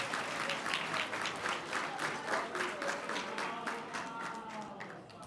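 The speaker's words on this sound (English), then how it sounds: "So a round of applause for our athletes." An audience at a school sports banquet applauds its athletes, a steady, dense roll of clapping from a crowd at moderate distance, tapering slightly at the end.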